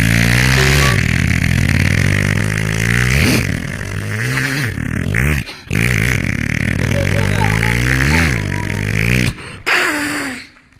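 A voice imitates a motorcycle engine with loud, sustained buzzing and revving vocal sounds, rising and falling in pitch with brief breaks, close to the microphone.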